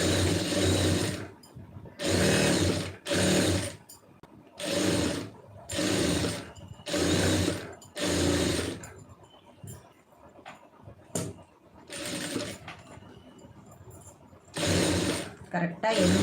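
A domestic sewing machine runs stitching fabric along a quarter-inch seam in loud, close bursts of a second or so, stopping and starting about eight times with short pauses between runs.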